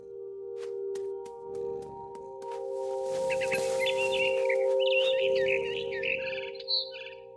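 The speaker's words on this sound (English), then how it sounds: "Then I heard chirping outside my window. It was a barn swallow going back to her nest." Barn swallow chirping from the game What Remains of Edith Finch: a rapid series of bright, twittering chirps rises over a steady tonal hum and faint background sounds, growing busier midway and then trailing off.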